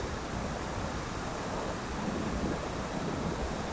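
Giant Gate Falls on the Milford hiking track pours in a dense, steady broadband rush of falling water, loud and unbroken throughout.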